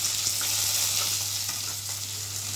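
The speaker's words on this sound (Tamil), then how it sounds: "இப்போ ரெண்டு பெரிய சைஸ் வெங்காயம் நான் வைக்கிட்டுருக்கேன் அதை சேர்த்துக்கோம்" Two large chopped onions hitting hot oil with fried cinnamon and cloves for a tomato kurma, a steady close sizzle with faint stirring scrapes and a low hum underneath, no talking.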